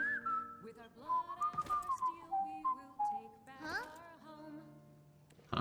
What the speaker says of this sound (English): What about if I do a more aggressive whistle